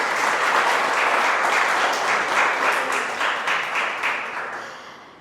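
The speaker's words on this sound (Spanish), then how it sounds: "Dale un fuerte aplauso al Señor." A church congregation gives a loud, full round of applause during a sermon, dense clapping from many hands that holds steady and then fades away over the last second or so.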